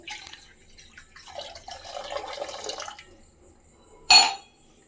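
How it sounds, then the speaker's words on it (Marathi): Water poured from glasses into a pot for masala Maggi noodles makes a soft splashing trickle that builds and fades, then a short loud splash near the end. "आता 2 ग्लास पाणी टाकले."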